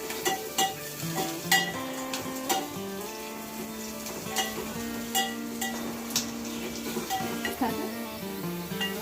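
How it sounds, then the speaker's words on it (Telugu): Onions and curry leaves frying in a pan, a steady sizzle with repeated stirring clinks of a utensil against the metal and faint background music throughout. "కరివేపాకు వేసి వేగనివ్వాలి."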